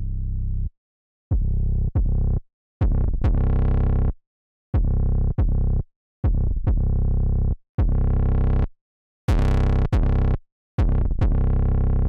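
A distorted 808 bass through the Misstortion soft clipper plugin plays a trap-style pattern of loud, thick booming notes, each with a short attack and sustained gritty tail, separated by brief silences.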